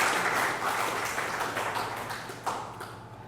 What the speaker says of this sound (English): Please give him a very good round of applause.